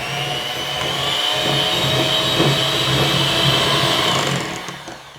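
An electric mixer whirs loudly through peanut butter cookie dough in a bowl, a steady motor drone with slight shifts in pitch that winds down near the end.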